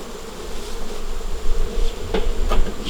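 Honeybees are dropped into a hive, and a dense, continuous buzzing swarm drones close by. A couple of soft knocks from the hive box sound under the hum.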